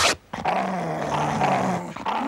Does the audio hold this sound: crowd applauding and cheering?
no